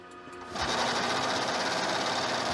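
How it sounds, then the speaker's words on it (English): A roll stock vacuum packaging and sealing machine switches on after a brief quiet moment, then runs with a loud, steady, dense mechanical whir and rapid rattling hum that continues without pause, close by. "it's going to come into the vacuum and sealing station"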